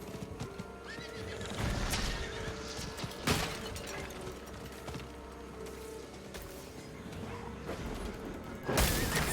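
A horse mount named Roach in the Diablo 4 video game, galloping with steady clip-clop hoofbeats and repeated loud neighs and whinnies, with no talk over it.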